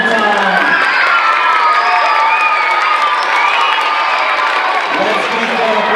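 A school spring concert audience for a 5th grade band claps and cheers loudly and continuously, with shouts and whoops rising through the dense applause, and a voice faintly joins the crowd noise.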